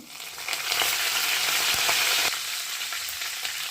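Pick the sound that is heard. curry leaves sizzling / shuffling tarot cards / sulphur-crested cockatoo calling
curry leaves sizzling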